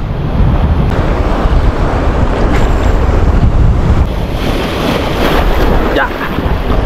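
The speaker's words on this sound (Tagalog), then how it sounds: "Pakachamba ng alon." Sea waves slapping against a small fishing boat out on the water, a loud constant wash of surf and wind buffeting the microphone with occasional heavier hits.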